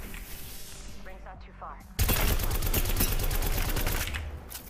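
Gunfire in the video game Apex Legends: a quieter stretch with faint effects gives way to a sudden, loud, rapid burst of automatic shots that continues steadily, with a voice talking over the opening.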